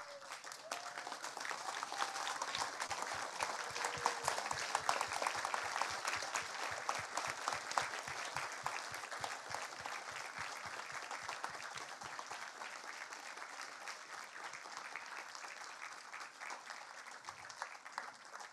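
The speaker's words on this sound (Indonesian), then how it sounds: "Mari kita bangkit berdiri dan memberikan tepuk tangan yang meriah." Audience standing to applaud at a university professorial inauguration ceremony in Indonesia, long sustained crowd clapping, rhythmic at first and gradually thinning, heard from a distance in a large hall.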